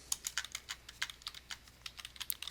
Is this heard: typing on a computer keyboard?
yes